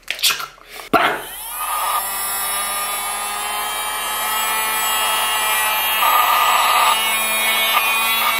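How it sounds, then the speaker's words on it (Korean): A small ear vacuum cleaner motor starts after a few handling clicks, then whirs steadily with a high-pitched whine, close and fairly loud, shifting pitch slightly midway. "이건 이제 귀 진공 청소기로 이제 귀를 정리하는 그런 느낌이에요"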